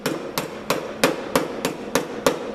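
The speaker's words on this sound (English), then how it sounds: "tap the metal seam again with the hammer" A hammer taps sharply on the metal seam of a Chevy Astro van radiator core support being welded, eight evenly spaced ringing strikes close up and alone.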